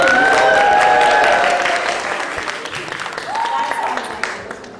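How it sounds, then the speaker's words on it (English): An audience at a stage event cheers and applauds loudly, with shouts and whoops over dense clapping that fades gradually across the clip. "Who is ready for performance?"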